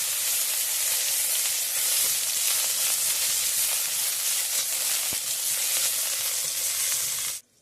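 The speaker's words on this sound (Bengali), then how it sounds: "এরপর আমি সবশেষে উচ্ছেটাকে ভেজে নেব" Pieces of bitter gourd frying in hot oil give a loud, steady sizzle and hiss that runs unbroken until it cuts off near the end, with no voices over it.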